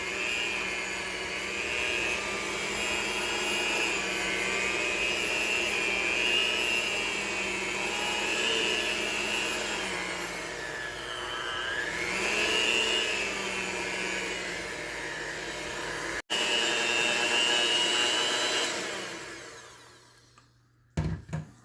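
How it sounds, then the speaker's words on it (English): Stand mixer with a whisk attachment beating cheesecake batter, a loud continuous whirring motor hum that rises and dips slightly in pitch, then briefly stops, restarts and winds down near the end. "using your whisk attachment, we're going to mix this together until it's well mixed for 2 or 3 minutes"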